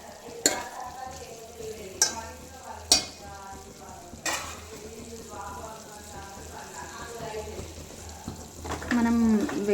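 A spoon stirs an egg, garlic and chili curry in a pan, giving several sharp clinks against the vessel over a low frying sizzle while a person talks throughout.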